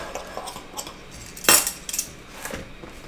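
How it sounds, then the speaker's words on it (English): Waffle batter stirred in a bowl with a utensil, giving a few light clinks and scrapes, one sharper knock near the middle, close but faint, no talk. "Now let's go ahead and stir this up."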